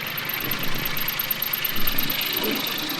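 A Japanese mini tractor engine runs steadily nearby after an engine overhaul, a continuous rumbling idle with a faint high whine over it.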